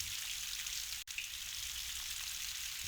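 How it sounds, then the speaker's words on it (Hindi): Heavy rain falling in a steady, dense hiss that continues unbroken apart from one brief sharp click. "तेज बारिश हो रही थी"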